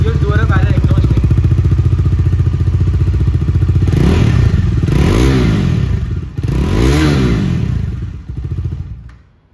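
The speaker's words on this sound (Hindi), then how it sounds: "अभी मैंने इंजन स्टार्ट कर ही दिया है तो इसका मैं एग्जॉस्ट साउंड भी आपको निकाल देता हूँ" A Bajaj Dominar 400 motorcycle, 2023 E20 model, idles through its dual exhaust with a loud, steady throb, then is revved hard twice in rising and falling sweeps before settling and cutting off.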